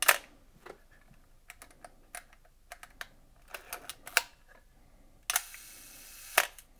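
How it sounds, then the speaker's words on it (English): A camera shutter with no film loaded fires repeatedly, producing a string of sharp, close mechanical clicks at varying intervals, with one longer exposure showing as a sustained buzzing whir between two releases. "You can try firing both long and short exposures with no film in the camera to see if your shutter is behaving"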